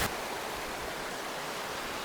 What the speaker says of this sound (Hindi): ये वाटरफॉल आ रहा है सीधा ग्लेशियर से, जो जा रहा है पूरा नीचे।